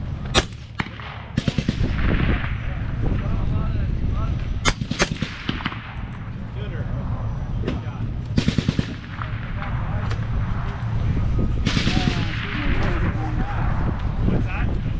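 A suppressed 6.5 Creedmoor rifle is fired by veterans at a range: sharp, loud shots recur irregularly, some in quick pairs, amid outdoor background noise and people talking.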